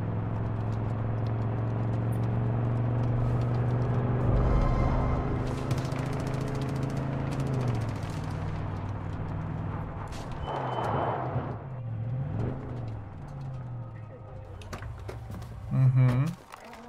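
A car driven across the open map in the video game Far Cry 5, its steady engine drone running continuously with shifting pitch, plus scattered game clatter and a brief louder thump near the end, no talking.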